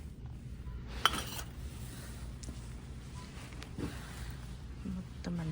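Steel bowls and small dishes clink against one another in a kitchen, giving a couple of sharp metallic chinks amid low rustling handling noise and faint room tone.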